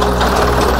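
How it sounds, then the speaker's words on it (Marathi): A tractor engine idles at a farm picnic retreat near Pune after a ride, giving a loud, steady, close rumble with no pauses. "अशा तऱ्हेने ही ट्रॅक्टर राईड परत आलेली आहे."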